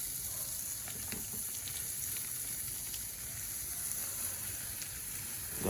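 Butter and onions sizzle on a Big Green Egg grill, making a quiet, steady crackling hiss with faint ticks and no talking.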